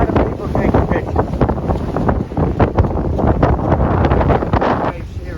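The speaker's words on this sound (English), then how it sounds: "Now the wind is coming directly from there." High winds at Lake Chapala buffet the microphone with a loud, continuous roar, gusting unevenly and all but masking the sound of waves and water along the lakeshore.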